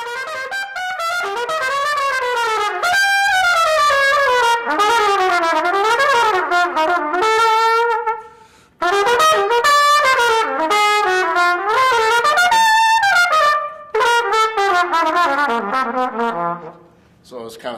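A jazz trumpet plays loud, close and alone in bright, flowing phrases with quick runs and bends, pausing briefly twice before trailing off at the end.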